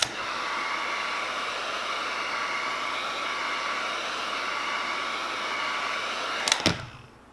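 A heat gun blows steadily while warming a vinyl decal wrap on a Traxxas Maxx 4S RC truck body, a constant loud whooshing hiss that cuts off abruptly near the end with a brief clatter.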